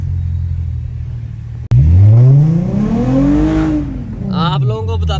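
A stock, untuned 2GR V6 engine in a Honda FD2 Type R project car pulls away hard after a sharp knock, the engine note climbing loudly then easing off, with a voice talking briefly near the end.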